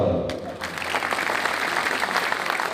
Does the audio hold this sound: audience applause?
yes